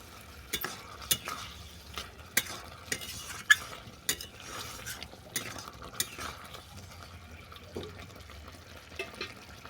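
Pumpkin chokka is stirred in a pan after sugar is added, with sharp intermittent scrapes and taps of a spoon against the pan over a faint low simmer.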